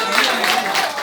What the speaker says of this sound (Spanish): el aplauso a la discoteca